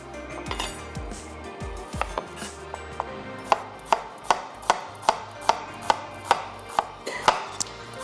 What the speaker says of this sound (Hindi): हमने यहाँ पर प्याज को कर लेना है स्लाइस।